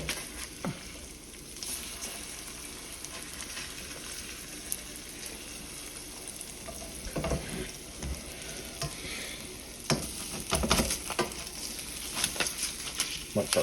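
Eggs sizzle steadily in a skillet, the crackle swelling now and then as they are turned, with scraping bursts from a spatula and occasional talk nearby.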